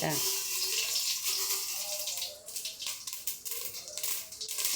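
Mustard seeds crackle and spatter in hot oil in a home kitchen, a steady dense hiss of sizzling with scattered sharp pops, continuous and close throughout.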